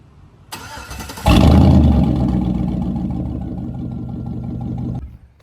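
A 2004 Chevy Silverado with freshly redone exhaust cranks over and fires, settling into a loud, steady, deep idle rumble close by for several seconds before cutting off.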